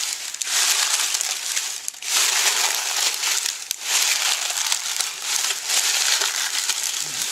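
Dry onion skins being wetted and smashed down in a pot for dye, loud close crinkling and crushing in repeated pressing bursts with brief pauses between.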